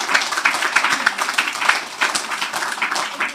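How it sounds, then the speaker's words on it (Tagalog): A church congregation at a UPC service claps loudly and steadily in a quick, even rhythm, the crowded hand claps filling the room throughout. "Palakpak ng malakas sa harapan ng Panginoon."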